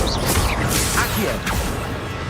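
Wizard's spellcasting in Hogwarts Legacy: a quick run of magical whooshes and crackling impacts, close and busy, with a voice briefly calling out spells over them.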